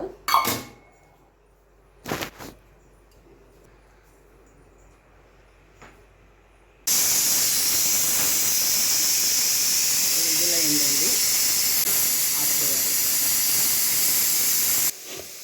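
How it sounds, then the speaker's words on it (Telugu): After a few quiet knocks, a pressure cooker whistle starts abruptly with a loud continuous hiss of steam, blasting steadily for several seconds while cooking chicken biryani over a low flame, then cuts off. "ఇప్పుడు కుక్కర్ మూత పెట్టేసి తక్కువ మంట మీద 2 విజిల్ రానిచ్చుకోవాలి"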